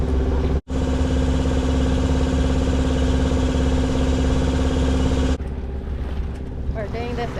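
A boat motors along under engine power near Bocas del Toro, Panama, its steady loud mid-pitched drone running continuously before the sound shifts and softens toward the end, with faint voice-like tones in the later part.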